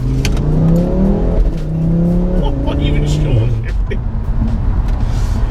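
An Audi 8P RS3 engine, tuned to 520 bhp, revs and accelerates through the gears in sport mode, rising pitch sweeps under someone talking, loud and close from inside the car.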